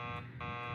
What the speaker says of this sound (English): keep calm and ring the buzzer